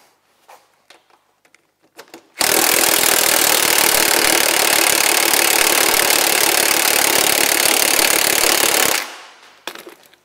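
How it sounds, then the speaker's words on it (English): An air ratchet runs on bolts during a Ski-Doo Elan snowmobile teardown, one loud, close, steady buzzing burst of about six seconds, with faint clinks of handled parts before and after. "If you can use a power tool, that's the best way to do it, or an air ratchet is even better"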